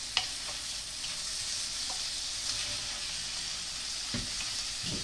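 Risotto rice being stirred into oil in a pan, a steady close sizzle with occasional scraping strokes of the spoon against the pan and no talking.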